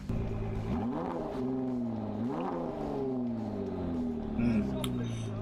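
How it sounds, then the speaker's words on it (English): A car engine revs up and down several times, its pitch rising and falling in smooth sweeps, loud and close, with a steady background whir. "That's a nice car engine."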